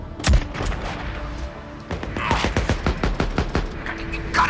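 Sniper and rifle gunfire in the Days Gone video game, one heavy shot up front, then after a short lull a rapid string of cracks in quick succession.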